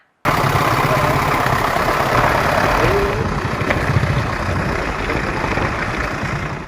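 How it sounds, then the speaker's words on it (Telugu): A tractor engine starts up abruptly and keeps running, a loud, steady low drone that holds until the end. "ట్రాక్టర్ నడిపే వీడియో చూపిస్తున్నారేంది"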